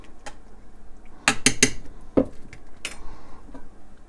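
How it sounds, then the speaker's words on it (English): A lid being set back on a pot of ground turkey spaghetti sauce, with a few sharp metallic clanks and clatters close by, spaced apart over quieter kitchen background. "Add your lid back."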